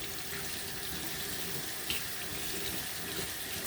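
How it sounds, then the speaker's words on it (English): Tap water runs steadily into a sink while soap is rinsed off hands, a constant soft splashing hiss at moderate distance with no voices. "Lather up, making sure to get between the fingers, fingertips, the thumbs, and then rinse off the soap."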